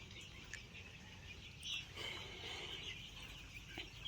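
Chickens in a dim poultry shed with a litter floor, soft scattered clucks and faint calls over a low steady background hum, fairly quiet and close.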